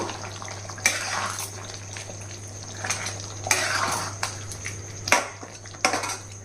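A spoon stirs chicken curry with spices and coriander in a metal pot, giving several sharp clinks and scrapes against the pot over a steady low stovetop hum.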